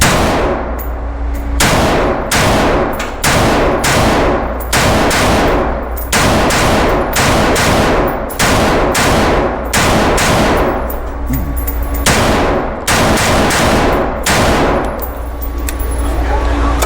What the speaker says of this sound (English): So enough talking, let's do some shooting.